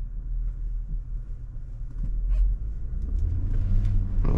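A 2024 Nissan Patrol Warrior (Y62) with all-terrain tyres drives into a small, deep bog hole, producing a steady low engine rumble that grows slightly heavier toward the end, with no voices.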